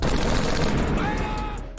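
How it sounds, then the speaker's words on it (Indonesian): Gunfire in a war film: a dense, loud burst of rapid shots and rattling blasts fills the whole moment, easing slightly toward the end. "si Yu Chongrong pun memancing para musuh dengan menembakinya"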